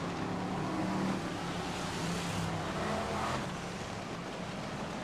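BriSCA F1 stock cars racing down the back straight at a 1995 UK Open meeting, a steady distant engine roar from the pack blending into crowd-like ambient noise, with no speech.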